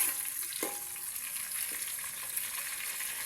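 Thick-cut onions frying in a pan for onion pulagam, a steady soft sizzle with a couple of brief stirring scrapes, close and fairly quiet with no voices.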